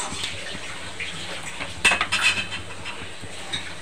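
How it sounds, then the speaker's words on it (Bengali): A spatula stirs a black mustard seed tempering in oil in a wok, giving a short cluster of metallic scrapes and clinks midway through over a quiet kitchen background. "নেড়ে চেড়ে একটু ভেজে নেবো ফোড়নটা"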